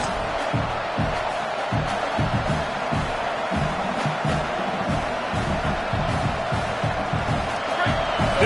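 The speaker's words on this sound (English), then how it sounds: "This crowd bringing the energy and noise early." Stadium crowd at a football game against Indiana roars in a steady wash of cheering and noise, broad and distant, with speech faintly layered over it.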